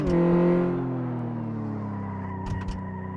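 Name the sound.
car braking and skidding in video game Car Mechanic Simulator 2014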